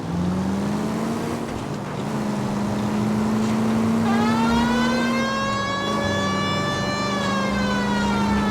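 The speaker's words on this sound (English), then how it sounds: "We have a siren." Police car siren from the L.A. Noire video game wails loudly and continuously, its rising and falling tones sustained throughout over a steady car engine drone.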